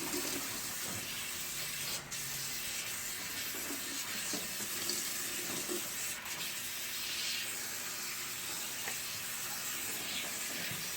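Tap water runs steadily as ice-dyed fabric is rinsed and worked under it in a sink, a continuous close hiss and splash with small shifts as the cloth is moved.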